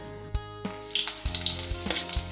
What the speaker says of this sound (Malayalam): കടുക് പൊട്ടിയ ശേഷം വറ്റൽ മുളക് ഇട്ട് കൊടുക്കാം.